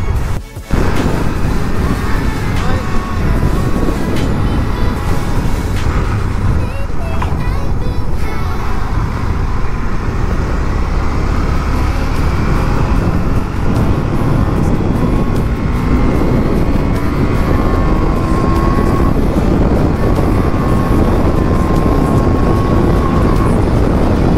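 KTM Duke 390 motorcycle engine while riding on the road, a loud, continuous roar that rises and falls with throttle, mixed with heavy wind rush.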